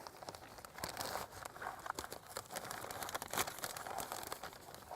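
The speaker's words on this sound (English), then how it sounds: "I'm going to put a plastic bag over the whole thing." A plastic bag crinkles and rustles up close in a garden in irregular bursts of crackling as it is handled and pulled over a plant, quiet overall with no talking.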